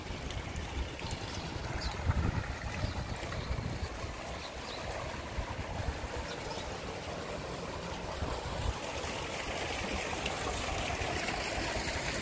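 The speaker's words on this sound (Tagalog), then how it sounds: "Umaapaw yung tubig." Overflowing river water at a riverside park in Taiwan rushes steadily, a constant broad wash of flowing water at a moderate distance with no voices.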